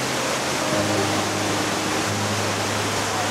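Ubot Falls, a waterfall in Aurora Province, gives a steady, dense roar of rushing water that fills the clip without a break.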